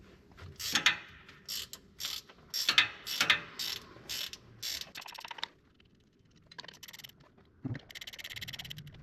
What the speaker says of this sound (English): This same 1/2 inch wrench should take these loose here too.